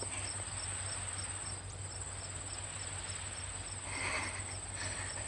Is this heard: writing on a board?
no